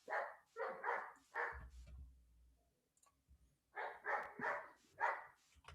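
A dog barks in bursts of several quick, moderately distant barks, pausing briefly with a low rumble before another run of barks, heard without talk.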